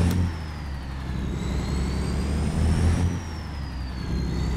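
Peterbilt 379 truck engine in American Truck Simulator, a deep diesel rumble with rising gear whine that climbs through shifts, close and loud, with a sharp hiss at the start and no talking.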